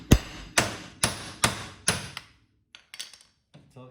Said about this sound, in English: And then we're gonna take our hammer and just tap it right here